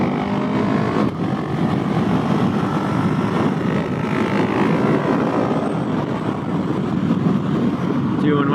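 A Husqvarna 701 motorcycle rides a twisty road, with its engine droning steadily and close, mixed with wind rush throughout.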